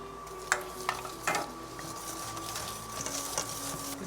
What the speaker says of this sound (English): We're just going to keep adding that, stirring it, adding it.